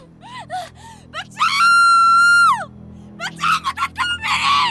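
A woman screams in a dramatic scene, short high cries followed by one long sustained shriek, then a burst of rapid gasping wails, loud and close.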